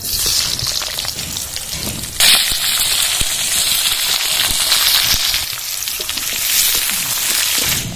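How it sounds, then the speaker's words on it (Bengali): Potatoes with a bay leaf crackle and sizzle loudly in hot oil, with a sudden surge as they hit the pan, then a steady spattering fry with occasional pops. "কেটে রাখা আলুগুলো দিয়ে দেবো"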